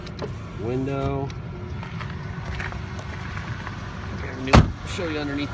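Power window of a 2001 GMC Sierra two-wheel-drive gas pickup, a steady motor whir running inside the cab over a low engine hum, ending in a sharp thud, with someone speaking at the start and near the end.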